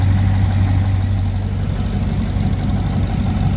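A 2020 RAM 2500 pickup idles steadily after a thermostat change, a loud, constant low rumble with a strong steady hum and no voices.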